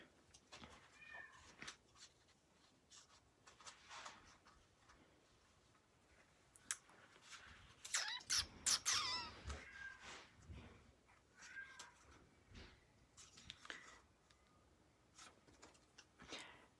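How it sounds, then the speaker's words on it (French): A cat chatters and meows in the background of an indoor room, with a louder burst of cries in the middle and softer chirps scattered before and after, no one talking. "Mon chat me jase en arrière"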